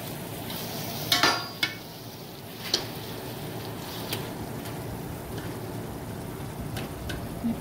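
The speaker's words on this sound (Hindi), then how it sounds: "मछली को बाकी एहतियात से डालेंगे।" Fish pieces go into hot oil in a pan for a fish salan, a steady close sizzle of frying with a few sharp clinks and splatters as the pieces are placed.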